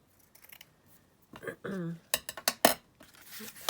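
Scissors snip through lace in quick close crisp cuts, with a few clinks and some soft speech mixed in.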